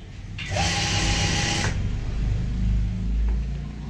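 Sewing machine stitching a heart-shaped cushion cover from the zip end: a steady, close mechanical whir runs for about a second, then stops, leaving low room noise.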